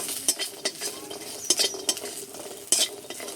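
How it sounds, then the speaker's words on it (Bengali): Dried lentil dumplings (dal bori) fry in a pan, with a soft sizzle under several short scraping stirs of a utensil against the pan, close and moderately quiet. "ডালের বড়িগুলো ভেজে নিচ্ছি"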